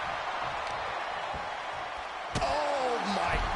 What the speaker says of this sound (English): And a stomp to the gut.